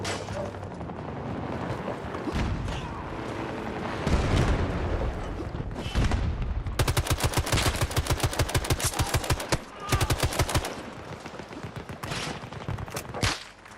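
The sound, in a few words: gunfire from snipers in Battlefield 6 video game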